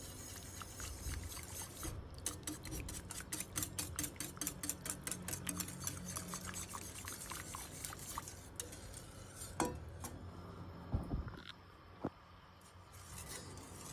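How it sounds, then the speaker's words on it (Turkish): A whisk clicking rhythmically against the sides of a pot of Turkish barley-vermicelli chicken broth soup, a steady quick ticking under a faint background hiss, with a few louder knocks later on. "Kaynama yavaşlayıncaya kadar karıştıracağım. Çırpıcıyı kullanıyorum."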